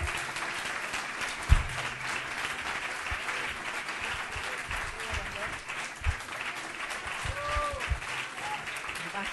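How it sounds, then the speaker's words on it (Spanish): Enthusiastic audience applause at a student music performance, a continuous wash of clapping with occasional louder claps and faint voices mixed in. "Muchas gracias por esos aplausos tan entusiastas."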